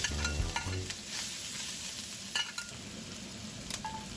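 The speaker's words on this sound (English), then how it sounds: "Then we'll fry the pork belly as well." Pork belly frying in hot oil with ginger slices, a steady crackling sizzle after a brief clatter at the start, with a few light scrapes later.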